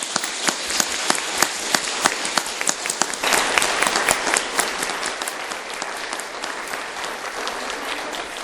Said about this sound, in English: let's give all these participants a nice round of applause.